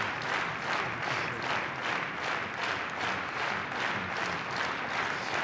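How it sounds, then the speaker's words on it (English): Steady applause and clapping from a large arena crowd at a professional wrestling match in the Nippon Budokan, a dense continuous wash of hands at moderate level with no voices over it. "Shiozaki responding to the claps from the crowd, the applause from the audience here."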